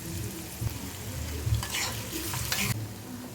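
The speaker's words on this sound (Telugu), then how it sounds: "ఆనియన్స్ అయితే వేగినాయండి." Onions with a little salt frying in hot oil in a kadai for a potato tomato curry, a steady close sizzle with occasional stirring scrapes and brief bright hisses, no talking.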